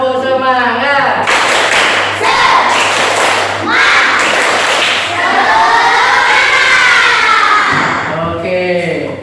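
A group performs the 'tepuk semangat' rhythmic clapping chant, with loud, close bursts of hand claps in a steady pattern and many voices chanting together over the beat.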